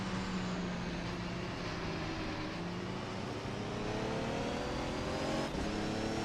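GT3 race cars roaring around Riverside International in a racing game, a dense continuous engine drone with several cars close together, pitch shifting as they accelerate and pass, loud and steady throughout.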